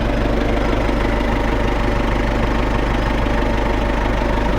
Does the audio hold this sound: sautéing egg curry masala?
no